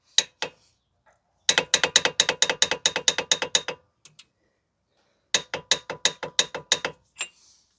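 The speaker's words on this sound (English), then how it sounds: "So you want to make sure you torque it properly." Torque wrench tightening an axle nut on a 2010 Toyota Corolla 1.8 during wheel bearing replacement: two long runs of rapid, close ratchet clicks separated by a pause, with a few isolated clicks before and after.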